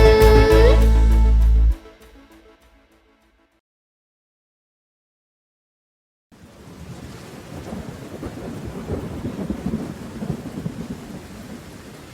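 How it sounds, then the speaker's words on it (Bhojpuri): A loud crack and rumble of thunder opens, fades into near silence, then steady rainfall sets in and patters on, alone and moderately loud. "झम झम झम झम बारिश आइल, टप टप टप टप बारिश आइल"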